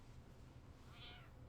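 A pet cat gives a single drawn-out meow near the end, faint and close, over a quiet low hum.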